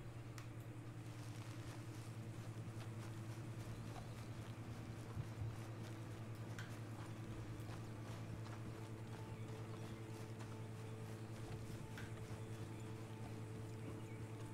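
Horse hooves walking at a steady clip-clop pace in Red Dead Redemption 2, a continuous moderate rhythm set against a constant low droning hum of the game's ambience, with no voices.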